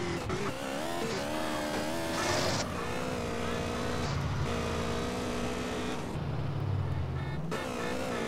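A car drives in GTA San Andreas, its engine note rising and falling with shifting pitch as it speeds up and slows, steady game sounds with no talk over them.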